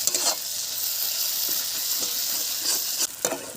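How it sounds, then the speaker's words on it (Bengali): Spice paste frying in a pan for a tilapia mustard curry, a steady close sizzle with soft stirring scrapes and a couple of brief louder spatters near the end. "মশলা ভাজা হয়ে গেছে।"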